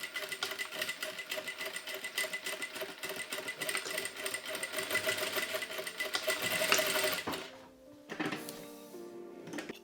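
A sewing machine stitches a bikini swimsuit, a close rapid mechanical whirring chatter that runs steadily for several seconds, then stops and gives way to a few quieter handling sounds; nobody speaks.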